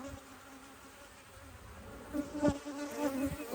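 A healthy honeybee colony in an opened hive drones in a steady, close buzz, with louder swells as individual bees fly near in the second half.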